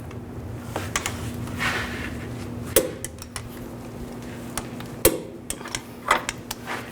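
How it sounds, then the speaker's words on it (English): A torque wrench tightens the front lower control arm bolts on a 2010-16 Buick LaCrosse, sharp metallic ratchet clicks and clanks at irregular intervals with two louder snaps, up close over a steady low hum and no talk. "Now torque these bolts to 74 foot-pounds with the wrench on top."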